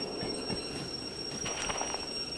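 A locomotive in the Derail Valley train simulator slows toward a stop, a steady rolling rumble with faint high brake squeal and scattered wheel clicks, continuous and fairly quiet.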